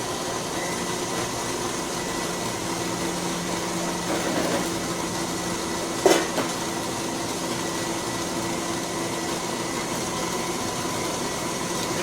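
A KitchenAid stand mixer runs in a restaurant kitchen, a steady mid-pitched motor hum throughout, with one sharp knock partway through.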